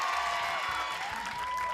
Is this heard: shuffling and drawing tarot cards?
no